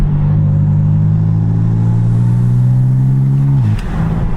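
A BMW F80 M3 with titanium front-mount intakes and exhaust valves closed in efficient mode drones loudly under acceleration as its turbos spool, then the tone drops sharply into a brief flutter.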